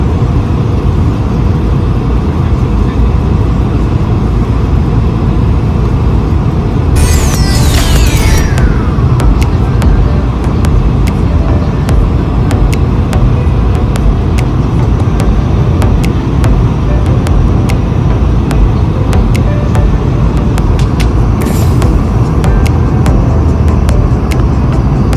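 Inside the cabin of a Swiss Airbus A220 landing in Prague, a loud, steady roar of engine and airflow noise fills the whole stretch, with a brief descending whine partway through.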